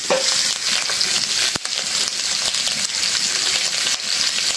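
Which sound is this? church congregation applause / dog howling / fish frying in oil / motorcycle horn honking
fish frying in oil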